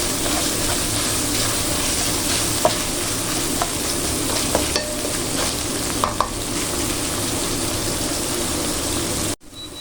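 Minced pork frying in a pan makes a dense, steady sizzle close by, with a few sharp spoon taps and scrapes, before the sound cuts off abruptly at the end.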